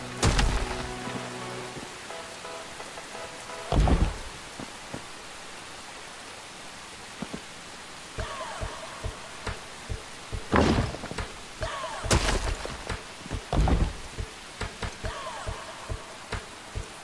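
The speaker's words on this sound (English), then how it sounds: "in the game right now, it's raining" Steady rain hisses softly in the survival game Enshrouded, a continuous wash broken by occasional thuds and clunks of in-game actions.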